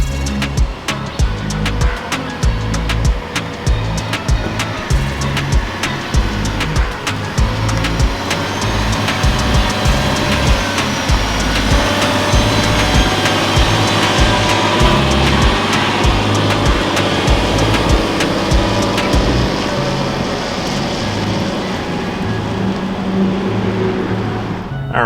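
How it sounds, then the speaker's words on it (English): A 2023 Toyota Sequoia Platinum with a turbocharged hybrid powertrain accelerates while towing a boat, giving a loud, steady engine and road roar that swells and holds throughout, with no talking. "you can just hear the turbos and hybrid system just like putting down the power"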